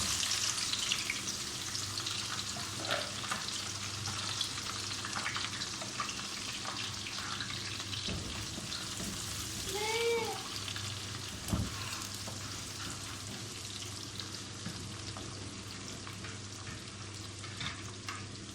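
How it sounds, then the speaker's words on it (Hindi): Chopped onions fry in hot oil for a potato chicken curry, a continuous moderate sizzle with occasional spoon scrapes and clinks, no talking. "यहाँ पे तेल हमारा हमने जो रखा था वो गर्म हो चुका है। अब इसमें हम प्याज डाल लेते हैं।"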